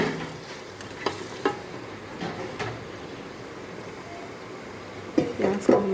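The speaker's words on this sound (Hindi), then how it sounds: "प्याज को हम हल्का सा सोते करेंगे।" Onions lightly sautéing in a pan for Peshawari namkeen mutton, a soft steady sizzle with occasional stirring scrapes and utensil knocks, louder clatter near the end.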